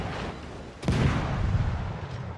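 An enemy warship called Shimmer fires its guns in World of Warships: a single sudden heavy boom cuts in after a low rumble, then rolls off in a lingering, rumbling tail, with no talk over it.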